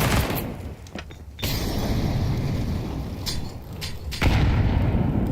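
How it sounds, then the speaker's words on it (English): A grenade blast in Counter-Strike 2 during a competitive esports match, a loud, close boom followed by bursts of rumbling gunfire and a second heavy impact near the end, with no talk over it. "Max was blasted away by that grenade"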